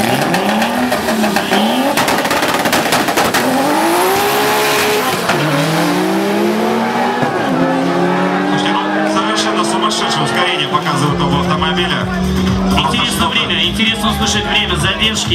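Modified Mitsubishi Eclipse and BMW drag racing cars launching at a drag strip, engines screaming through rising gear shifts with tire squeal, loud and close, with a commentator talking over them.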